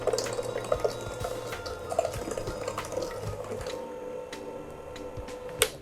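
An electric mixer beats chocolate cupcake batter at low speed, a steady motor whir running the whole time with small clicks and taps from the bowl.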